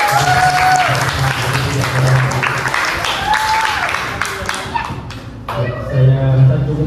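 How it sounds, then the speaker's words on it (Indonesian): Applause from participants at a focus group discussion, scattered and moderate, heard under ongoing talk with some thumps and taps, thinning out midway before briefly picking up again. "Boleh dong diberi tepuk tangan dulu"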